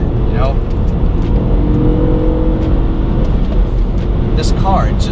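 A 3-cylinder Mini car accelerates through a curve, its engine droning loudly and steadily from inside the cabin, with a faint rising whine near the start and again near the end.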